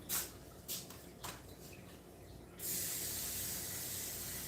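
Kitchen faucet water starts running into a pot for boiling, a steady hissing rush that switches on after a few soft knocks and continues evenly.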